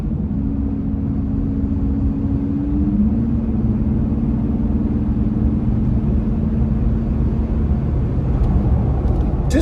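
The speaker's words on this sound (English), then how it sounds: "Just gives you that nice grumble in the background." From inside a Jeep Gladiator cruising and accelerating around 50 mph, a constant deep exhaust drone and road rumble fill the cabin, loud and steady, with a faint tonal hum shifting partway through.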